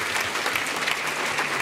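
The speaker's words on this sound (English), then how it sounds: "You love applauding." Applause from a crowd at an opening talk celebrating Eames, a steady, fairly loud rattle of many clapping hands with no break.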